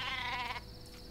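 A sheep in the Worms Revolution video game gives a single short, wavering bleat lasting about half a second, then fades to a quiet background.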